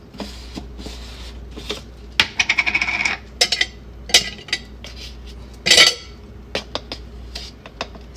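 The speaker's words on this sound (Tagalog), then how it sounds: "lalagyan ko po ito ng ice" Ice cubes drop into a drink glass, giving a run of close, bright clinks and rattles, including a quick clustered tumble and several scattered single knocks.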